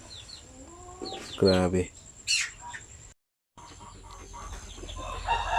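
Incubator-hatched chicks give high, thin peeps in scattered bursts, mixed with fowl clucking nearby. A person speaks briefly, and the sound cuts out for a moment partway through.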